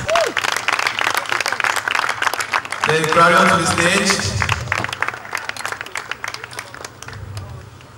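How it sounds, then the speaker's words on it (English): Audience applause rises on a stage as a singer is welcomed, swelling into loud clapping with crowd noise over a steady low hum, while an announcer's voice speaks before and during it. "A round of applause"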